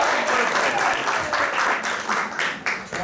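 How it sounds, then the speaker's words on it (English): A theater audience at an improv comedy show applauding steadily, dense clapping that swells and dips slightly in waves over a few seconds, with a faint murmur of voices beneath. "You should applaud this man."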